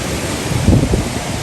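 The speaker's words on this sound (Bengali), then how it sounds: "গলফেসে দেখেন ইন্ডিয়ান ওশানকে কেমন লাগে।" Indian Ocean waves wash ashore at Galle Face in Colombo at night, a steady broadband surf rush with a brief swell of louder crashing, mixed with wind buffeting the microphone.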